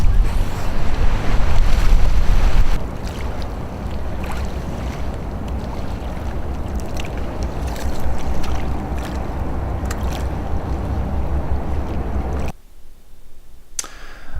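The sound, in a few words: boat going through a river drop on the Susquehanna River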